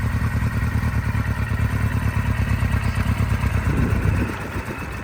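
A restored Kawasaki RS Z motorcycle engine with a rebuilt engine runs close by with a rapid, even pulsing chug, idling steadily before tapering slightly near the end.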